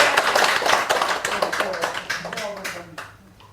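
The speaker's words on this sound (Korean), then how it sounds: "박수 한번 주세요" A small gathering claps during a Buddhist dharma talk at a New York temple, scattered hand claps close by that thin out and fade over a few seconds, with voices mixed in.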